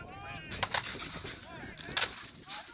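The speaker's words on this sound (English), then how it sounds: "Constant claps of gunfire ringing through the hills of the Hubbardton battlefield." Several sharp gunshots crack out at a distance during a battle reenactment in the hills of the Hubbardton battlefield, with scattered echoing reports and brief honking calls mixed in.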